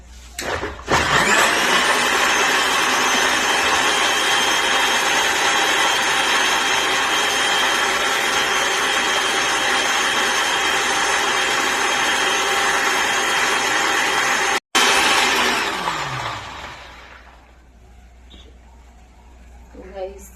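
A mixer blender whirs steadily and loudly, blending a kulfi mixture of condensed milk and Amul fresh cream for about fifteen seconds, briefly cutting out, then spinning down to quiet.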